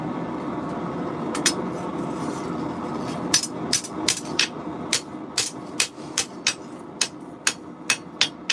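Sharp metallic hammer blows forging a steel chef's knife ring out in a steady, quickening rhythm of about a dozen strikes over a constant roaring forge-like background hiss.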